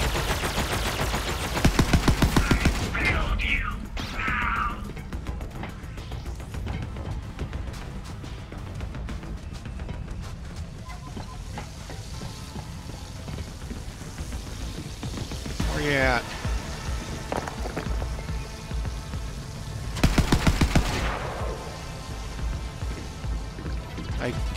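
Video game gunfire in Borderlands 3 comes as rapid bursts of shots early and late, with someone talking over the game's ongoing sounds.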